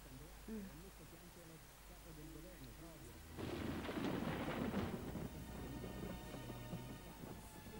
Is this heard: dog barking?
no